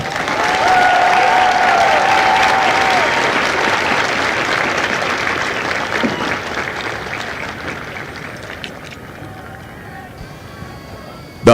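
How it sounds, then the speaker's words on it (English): Sustained applause from a large crowd at a Marine Corps recruit graduation ceremony in San Diego, steady and loud, slowly thinning toward the end with a brief voice faintly heard early on. "please join me in a round of applause for the company staff"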